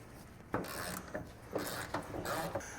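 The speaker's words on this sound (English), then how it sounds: "Now we're gonna go ahead and take" A ratchet wrench loosens a bolt on a chrome Scout door, quick clicking strokes in short bursts, close and quiet with no talk.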